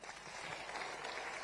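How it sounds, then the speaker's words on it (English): Audience applause for President Ruto, a steady wash of many hands clapping at moderate distance throughout, with a faint murmur of crowd beneath. "Please, let's give him a round of applause."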